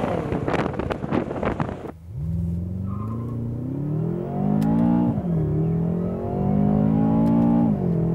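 BMW M6 Competition engine accelerating hard from inside the car, a loud rising drone that climbs through the revs, dips at a gear change and climbs again, with wind noise over it.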